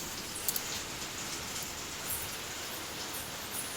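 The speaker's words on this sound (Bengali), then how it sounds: "বৃষ্টি পড়ছে বাইরে।" Faint, even rain falls outdoors in a soft continuous wash, heard from indoors, with a couple of brief small clicks near the start and no talking.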